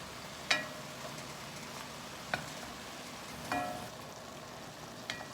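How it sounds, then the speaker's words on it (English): Mushrooms sautéing in a pan give a faint, low sizzle with a few soft clicks and stirring taps scattered across the stretch, with no voices. "They will start to saute and then they'll release their liquid and then they'll start to brown"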